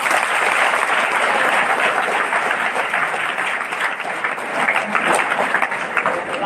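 Audience at a school prize ceremony for meritorious students applauds steadily and loudly throughout, a dense sustained clapping that fills the hall with no break.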